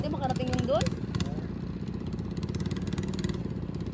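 A small fishing boat's engine chugs steadily and close by, with a rhythmic mechanical clatter running under people talking throughout.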